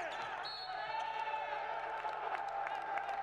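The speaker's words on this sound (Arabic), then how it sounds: "تشجيع من دكه بدلاء النادي الاهلي" Cheering from the Al Ahly substitutes' bench during a handball match against Zamalek, steady crowd noise with claps and sharp ball bounces in an indoor arena, with a voice talking over it throughout.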